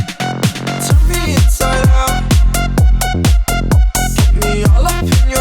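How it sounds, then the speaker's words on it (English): A tech house drop pounds with heavy punchy kicks, a pulsing bass line, a bright lead and effects in a driving four-on-the-floor rhythm, loud and dense, with a vocal line sung over the beat. "for the B section is kind of like the main big drop"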